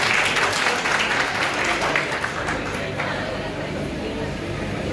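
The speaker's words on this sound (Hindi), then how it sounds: "जिनको समझ गया है वो ताली बजा दो एक बार जो।" Crowd of party workers clapping at a BJP youth convention in Jammu West, dense steady applause filling the hall with some voices mixed in, fading slightly toward the end.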